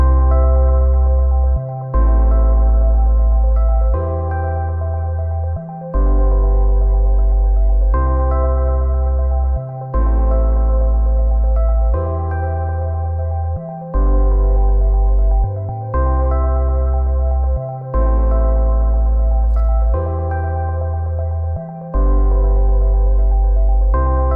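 A full band arrangement plays loudly throughout, with a deep bass line locked to the drums in repeating phrases and brief dropouts between sections.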